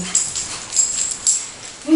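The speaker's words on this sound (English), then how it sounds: "if you hear the snorts, and that's the dogs" West Highland White Terrier dogs playing and tussling, with soft snorts and small whimpering yips coming close and fairly loud in short bursts over a couple of seconds, alone without talk.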